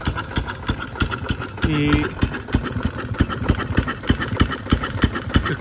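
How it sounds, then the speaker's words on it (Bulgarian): An old car engine running at half revs with a fault, idling roughly in a fast, slightly uneven chugging pulse, close up, with a brief whine and a spoken word over it. "Ето го двигателя, как работи на половин оборот."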